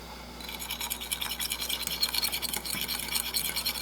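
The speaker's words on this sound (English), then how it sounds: "we're just going to mix it together." Irish potato boxty batter being stirred together in a bowl, a steady, close scraping and swishing that runs continuously with small irregular bursts, with no talk.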